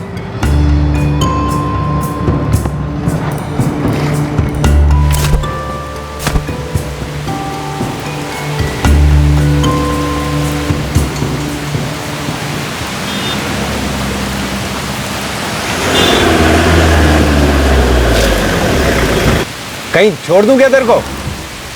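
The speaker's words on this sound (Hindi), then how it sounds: "बारिश हो रही है" Steady rain pours at a bus stop, a broad hiss running under a man's and woman's conversation, with passing traffic swells and a louder rushing surge toward the end.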